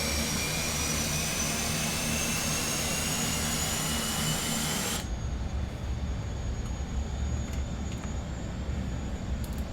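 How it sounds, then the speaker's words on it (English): Engine 1 of an Airbus A400M military transport spools up, a loud, steady turbine roar with a high whine that cuts to a lower, broadband drone partway through. "Okay, good start on engine 1,"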